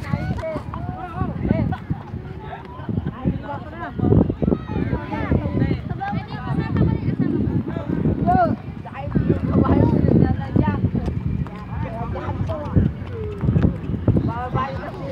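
Rapid hoofbeats clatter steadily throughout, a horse clip-clopping close by, with people talking and shouting over the noise, in Tagaytay, Philippines.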